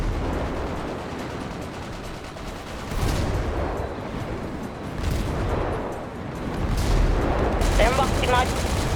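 Bursts of video game gunfire aimed at an enemy, with several loud clusters of rapid shots rising over a steady noisy background while players talk over it.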